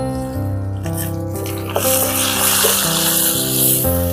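Chopped onion and green chilli frying in hot oil with crushed ginger and garlic, a steady close sizzle under a sustained background hum.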